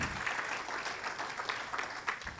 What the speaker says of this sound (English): How about a round of applause for this wonderful, wonderful auctioneer?